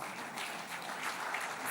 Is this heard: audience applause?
yes